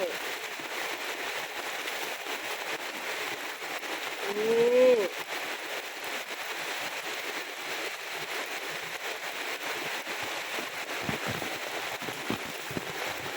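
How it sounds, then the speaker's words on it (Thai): Heavy rain pours steadily near a house where elephants shelter, a constant dense hiss throughout, with a brief voice speaking over it. "ฝนตกแรงเลยจ้า"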